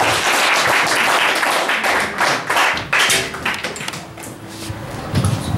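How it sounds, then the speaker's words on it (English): Small audience at a cafe open mic applauding, scattered light handclaps that start brisk and thin out over several seconds, with a few thumps and brief murmurs of talk in the room. "That wasn't very much applause for the man's been in the hospital today."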